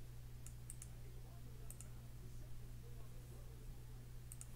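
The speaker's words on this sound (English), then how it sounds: "I'm going to type live." Faint clicks of typing on a computer keyboard come in a few short bursts of keystrokes, set against a steady low electrical hum in a quiet room.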